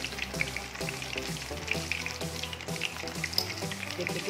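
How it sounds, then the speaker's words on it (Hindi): Chicken cheese pockets deep-fry in hot oil with a steady, dense sizzle and crackling bubbles, close and continuous, with no talking. "हमारे चिकन पॉकेट्स को डीप फ्राई करना है। हॉट ऑयल के अंदर हम डालेंगे इसको"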